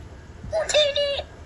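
A short, high, warbling electronic Jawa voice from a Star Wars toy blaster chatters in quick squeaky syllables, like a tiny toy creature babbling, loud and close.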